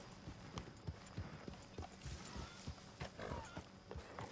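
A horse's hooves clip-clop in a video game, a steady walking rhythm of distinct, faint hoofbeats with no talking.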